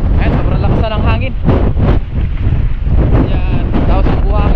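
Strong gusting wind at a sandy sea shore roars loudly across the microphone, rumbling and buffeting without a break, with faint voices partly buried beneath it.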